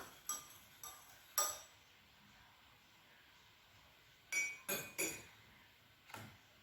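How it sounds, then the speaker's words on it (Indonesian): A spoon stirring coffee solution in a glass beaker during a school chemistry experiment gives sparse, faint clinks of metal against glass, a few scattered taps with quiet gaps between them. "Kemudian kita akan mengaduknya dengan sendok."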